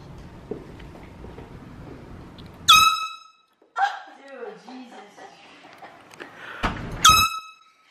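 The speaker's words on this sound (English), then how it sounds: "I'm gonna air horn like everything he does" Two loud air horn blasts sound during a sibling prank, each a sharp burst with a strong tonal ring, separated by a stretch of close talking and rustling.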